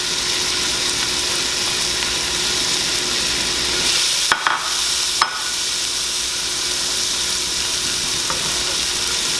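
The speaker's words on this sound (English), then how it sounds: "And then we're just going to be sauteing them for about 3 minutes." Onions and apple sauté in melted butter with a steady, even sizzle, interrupted by two brief sharp utensil scrapes near the middle and no talking.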